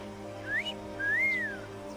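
Two rising-and-falling human whistles, a short upward one then a longer arching one, cut through a steady low game soundtrack hum during a Final Fantasy X scene at the Moonflow.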